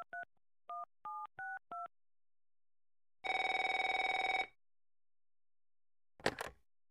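A telephone in a South Park cartoon: five quick touch-tone keypad beeps, then a single sustained electronic ring tone lasting over a second, ending in a short click like a receiver picked up. No one speaks.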